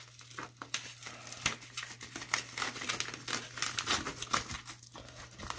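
A sports card mystery pack wrapper torn open and crumpled by hand, with close, crisp crinkling and tearing that comes in quick irregular bursts over several seconds and no talking.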